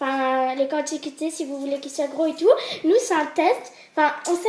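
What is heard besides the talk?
No everyday noises stand out.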